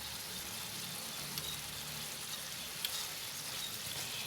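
Vegetarian tofu stew with lemongrass and chili bubbling in a pot, a steady soft simmering hiss with faint popping, fairly quiet and continuous, no voices.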